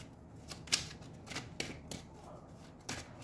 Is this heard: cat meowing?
no